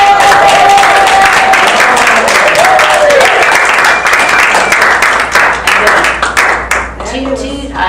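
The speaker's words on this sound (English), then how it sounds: "If you'd stand for a round of applause, Michelle." Loud, close clapping fills a room as a club meeting's members applaud a new member and competent communicator; the rapid claps thin out toward the end while a voice speaks over them.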